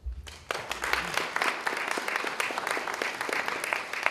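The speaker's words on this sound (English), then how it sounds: "A round of applause for Denise." An audience bursts into applause that builds quickly and stays steady, many hands clapping together at a moderate distance.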